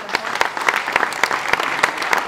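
A crowd at a youth rugby tournament applauds the volunteers, loud and near, with sharper individual claps standing out from the dense patter throughout.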